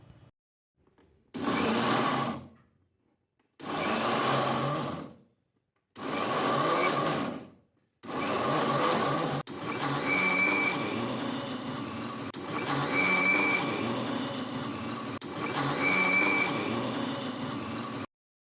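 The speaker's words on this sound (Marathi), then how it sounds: "अशा प्रकारे मिक्सरचं बटन थांबून थांबून फिरवलं ना तर बारीक होण्यासाठी आपल्याला त्यामध्ये पाणी किंवा दूध काहीच घालावं लागत नाही" A kitchen mixer grinder whirs through coconut burfi ingredients in four short, loud bursts separated by silences, then runs continuously with a steady motor drone and slight whine.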